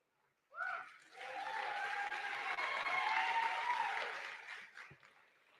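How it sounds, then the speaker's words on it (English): An audience at a Lincoln University address by the Maryland governor applauds, a dense, loud burst of clapping that starts suddenly, holds steady for several seconds and then tapers, with a few brief voices at the start. "You know it's a good day when you have to stop speaking for a minute so everybody can applaud."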